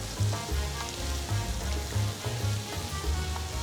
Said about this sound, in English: We cook now a little bit the tomato paste for around 2 to 3 minutes.